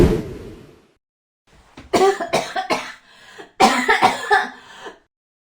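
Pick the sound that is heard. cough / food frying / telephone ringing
cough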